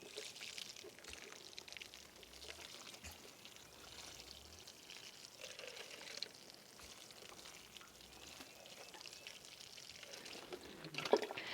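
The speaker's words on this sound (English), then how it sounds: "really it's just as easy as watering it into your seedlings." Watering a liquid mix into seedlings: a soft, steady pour and trickle of water runs through the whole stretch, faint and close, with a brief sharper splash near the end and no talk.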